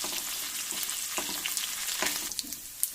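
Pieces of chicken, already well cooked and soft, sizzle and crackle steadily in a pan, with scraping stirs breaking through the even, close frying hiss and no talk.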